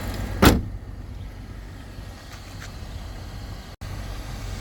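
A BMW X5 from 2007 with a 4.8-litre petrol engine has its hood slammed shut, one sharp solid thud standing out near the start over a steady low engine idle that continues throughout.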